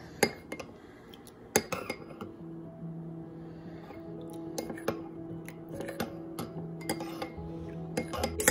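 A spoon stirs a home cough remedy in a glass, giving quiet, repeated metallic clinks at an uneven rhythm over a faint low hum.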